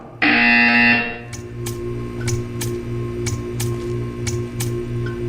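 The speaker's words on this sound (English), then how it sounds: "You will hear a buzzer." A loud, harsh electronic buzzer blares once for about a second, then gives way to quiet, evenly spaced ticking clicks over a low steady hum.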